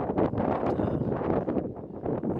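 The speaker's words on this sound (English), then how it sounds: "Yeah, it's very windy today" Strong, cold wind blowing in off the water at a marina, a loud, steady roaring buffet against the microphone with gusty surges and no voices.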